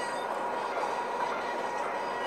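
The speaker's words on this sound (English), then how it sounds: "this train will be cruising at over 90 miles an hour" Fan-made Amtrak Greenfield Zephyr train in a video game cruising at over 90 mph, a steady rushing rail roar with a faint wheel hum, no voices.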